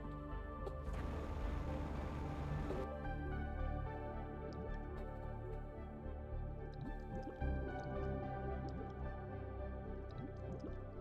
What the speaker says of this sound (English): Oh, we got water.